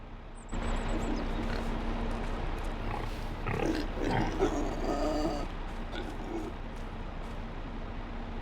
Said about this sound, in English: Let's pop over and check on them pigs.